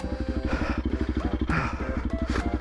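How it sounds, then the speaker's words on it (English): A Honda CRF 300L dual-sport motorcycle, 2024 model, throbs in a steady rapid pulse as its rear tire spins in soft, sinking ground. The engine is close and fairly loud, with brief scuffs and clatter over the rhythm. "Spin my back tire, get my angle a little different there."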